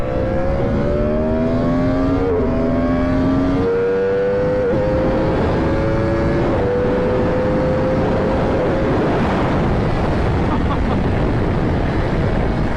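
A Yamaha R1 sportbike pulls hard at full throttle, its engine note climbing and stepping down through quick gear changes under a loud, constant rush of wind, with no one talking.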